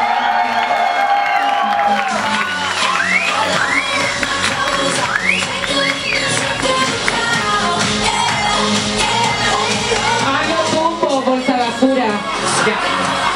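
A studio audience on a Chilean TV variety show cheers, whoops and claps for a departing performer. The crowd sounds loud and lively, with electronic musical tones layered over the noise.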